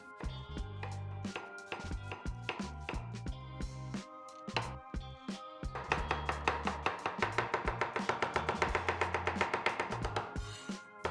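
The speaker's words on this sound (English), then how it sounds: "For the sauce, we need finely chopped onions" A knife chops onions finely on a board for a beef stroganoff sauce, sharp rhythmic taps that begin spaced and uneven, then speed into a rapid steady run, with music playing underneath.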